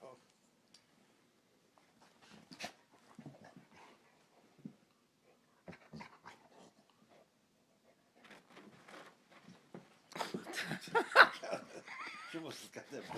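Puppies and dogs play roughly, with scattered yips, snuffles and scuffling bursts that grow busier toward the end, while people murmur and shush nearby.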